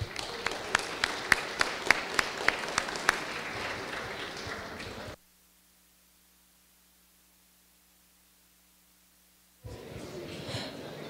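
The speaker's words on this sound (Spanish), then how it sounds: "Los vamos a reconocer con un fuerte voto de aplausos." Audience applause at a student band award ceremony, steady dense clapping for about five seconds, then a sudden near-silent gap before clapping resumes.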